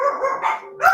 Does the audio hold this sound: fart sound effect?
no